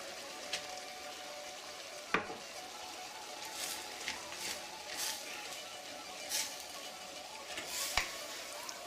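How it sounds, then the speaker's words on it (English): Rice, parsley, salt and pepper being stirred into a cabbage dish for Greek lahanoryzo, with soft intermittent scraping and mixing sounds and a few light clinks of a utensil against the pot, plus faint sizzling in the background. "Give it a good mix."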